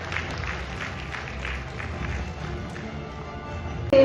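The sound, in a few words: applause at Gujarat Media Awards ceremony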